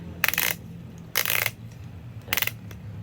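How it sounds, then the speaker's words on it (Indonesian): Three short bursts of rapid clicking from the ratcheting dial closure of a Sidi Genius 10 road cycling shoe being twisted, separated by brief pauses over a faint low hum. "Jadi ini untuk mengencangkan tali, terus diangkat dan diputar seperti ini."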